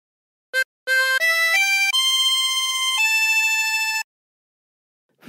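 A harmonica plays the opening phrase of On Top of Old Smokey: a quick short note, a brief pause, then a string of bright, sustained reedy notes rising and holding, loud and close, ending abruptly.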